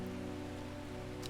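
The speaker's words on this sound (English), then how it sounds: "I feel like the raindrops are a little loud." Rain falling in the video game Strange Horticulture, a steady wash of raindrops alone over a low sustained musical drone, fairly loud throughout the short stretch.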